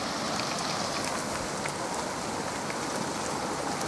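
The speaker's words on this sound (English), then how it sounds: "We're actually getting rain for like the first time in 2 months." Rain falls outdoors after a long dry spell, a continuous close patter and hiss of drops on surfaces, steady and moderately loud with no talking.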